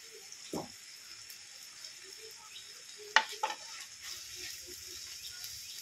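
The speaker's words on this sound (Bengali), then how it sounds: "দিয়ে সবগুলো একসঙ্গে ভালো করে মশলা মাখিয়ে নেব।" Fish is worked by hand with ground coriander, cumin, turmeric, chilli powder and salt for Bengali macher chop: soft, wet squishing over a faint steady hiss, broken by a few sharper clicks near the middle, with no talking.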